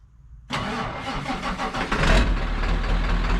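A 1963 Chevrolet Impala cranks briefly and fires up, catching into a loud, rough idle that swells with a rev; close and clear, no talking.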